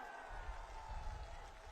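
A rally crowd gives thin, half-hearted clapping with a murmur of voices, soft and distant throughout.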